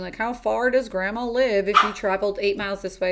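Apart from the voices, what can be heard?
dog barking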